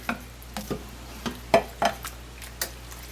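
A spoon stirs vegetarian chili in a pot, giving about eight soft, separate scrapes and knocks spread irregularly over a few seconds against a low, quiet background, with no voices.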